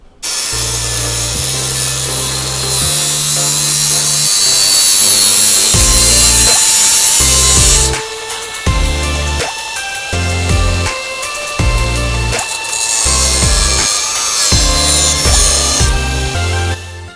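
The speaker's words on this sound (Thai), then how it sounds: "ก็ตัดออกมาให้มันเป็นเหลี่ยมประมาณนี้นะครับเพื่อที่จะให้น็อตมันเข้าไปได้ง่ายนะครับผม" A power tool cuts a metal part from a Honda Wave 125 motorcycle into a square shape, loud grinding-saw bursts that stop and restart several times, close up.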